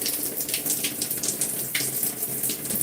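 Water runs steadily from a tap during a hair wash, a continuous hissing splash that stays fairly even throughout with no voices over it.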